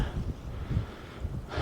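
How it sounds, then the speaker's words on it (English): Wind gusting across a freezing winter tent campsite, a steady low rumble of buffeting against the microphone that swells in surges, alone with no talk. "It's just the wind is really picked up."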